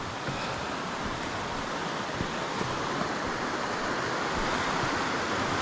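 Haltwhistle Burn, a river stream, flows steadily with a dense, continuous rush of water that stays close and even throughout, with no voices.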